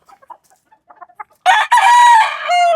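A rooster crows loudly and close by after a run of short, quiet clucks, its long call breaking off briefly and then trailing down to a held final note.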